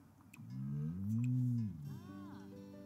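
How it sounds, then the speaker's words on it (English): A cow plant in The Sims 4 gives a single drawn-out, mooing bellow with a rising and falling pitch, fairly close, followed by a softer fading tail and no talking. "Yeah, you can wake up and feed the cow plant."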